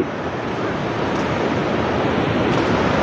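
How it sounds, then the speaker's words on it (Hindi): Steady rushing water of the Nazarating river fills the whole stretch, a loud, unbroken wash with wind noise on the microphone and no voices. "नाजाटी नदी"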